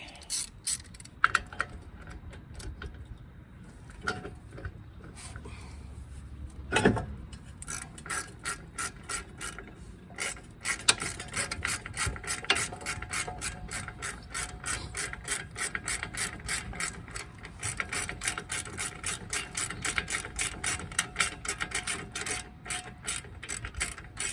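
A ratchet backing out long 18mm brake caliper bolts on a Buick Regal GS with Brembo calipers: near, rapid continuous clicking that starts after some scattered handling noises and runs steadily to the end.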